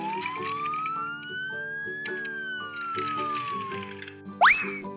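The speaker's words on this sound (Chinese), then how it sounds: "消防车出发去执行任务" A toy fire truck's electronic siren sound effect, a tinny wailing tone rising and falling over a steady beeping electronic pattern, ending with a short upward boing-like sweep.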